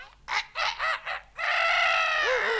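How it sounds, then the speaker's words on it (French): A rooster crows once, loud and close, after a few short clucking calls, with no talk over it. "Le coq?"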